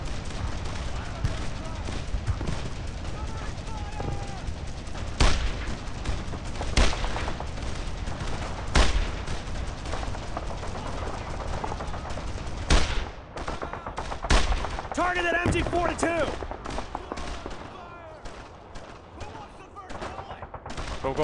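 Machine gun fire and scattered gunshots from a World War II battle in the Brothers in Arms video game, a dense steady fusillade with sharp louder bursts and shouted voices under the din.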